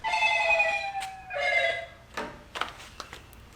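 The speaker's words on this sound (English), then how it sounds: "my phone's ringing again" A mobile phone rings with a bright electronic melodic tone in two clear bursts, followed by a few short clicks and taps, at a dyno day event with no talking.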